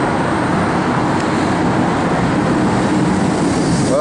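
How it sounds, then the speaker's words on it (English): A train rumbles past close by on a bridge in Sydney, shaking it, a loud, continuous roar of wheels and rails that stays steady the whole time. "There's a train right behind us."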